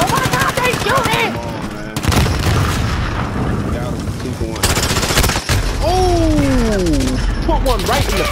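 Gunfire from the video game Call of Duty Modern Warfare: several loud bursts of shots and booms, mixed with a voice talking over the action.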